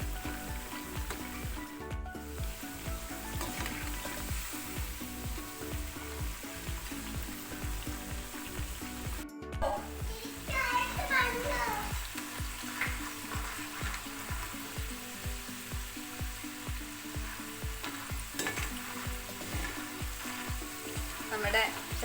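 Banana slices for banana chips sizzle and fry steadily in hot oil for a long stretch, with occasional stirring noises on top. The sound is continuous and fairly quiet, with no talking.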